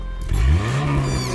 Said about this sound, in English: that sound is just Tilly's turbocharger